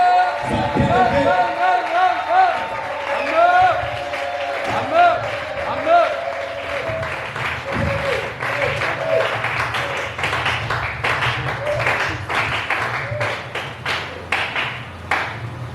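A church congregation cheering and clapping, loud crowd shouts and ululation giving way to rapid, steady applause that builds and holds to the end, with voices mixed in.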